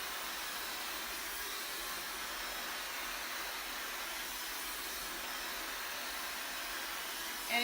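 A Dyson Supersonic hair dryer on a lower heat setting blows with a steady, even airy whoosh, constant and close throughout, alone with no voices.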